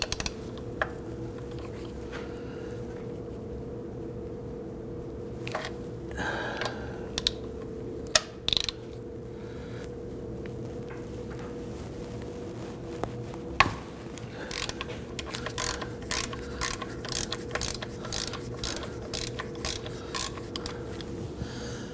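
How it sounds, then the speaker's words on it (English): Ratchet turning a 17mm socket to loosen the oil drain plug on a 2009-2017 Volvo XC60, heard as a close series of rapid ratcheting clicks, sparse at first and then fast and steady over a low shop hum. "Now you want to go ahead and grab a 17mm socket and a ratchet."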